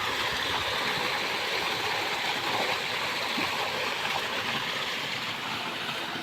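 Water rushes steadily from the outlet pipe of a 7.5 horsepower well pump motor on a wheat farm, a loud, continuous, close gushing stream with no pauses.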